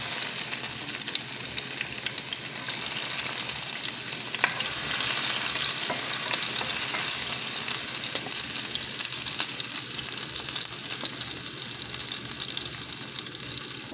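Garlic sautéing in a pan for callos, a steady loud sizzle and crackle of frying with faint stirring scrapes running throughout, no voices.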